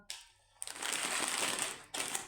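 A 750 g plastic packet of roasted buckwheat crinkles and rustles close up in a dense burst lasting over a second, then briefly again after a short pause.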